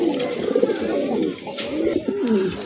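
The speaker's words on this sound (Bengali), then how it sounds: "মাশাল্লাহ খুবই সুন্দর টকটকা লাল এক জোড়া বোম্বাই কবুতর" A pair of deep red Indian Bombay pigeons coo close by in a pigeon farm setting, with soft repeated throaty rolls and a few faint background clicks.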